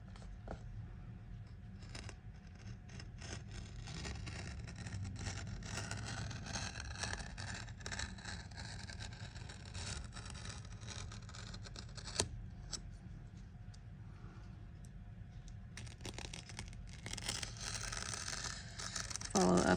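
A sharp blade draws through a strip of leather for a rolled handle, a close, low scraping, slicing sound with small scuffs and a brief sharper snap near the end.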